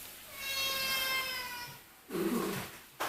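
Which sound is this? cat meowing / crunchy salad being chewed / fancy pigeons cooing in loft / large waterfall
cat meowing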